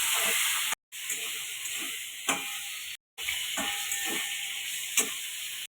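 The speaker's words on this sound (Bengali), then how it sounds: "আলু বেগুনটা আমি ভেজে নেব" Potato and eggplant pieces fry in hot oil in a pan for a Bengali rohu fish curry, giving a steady close sizzle with faint ticks and stirs, briefly cut by two short gaps of silence.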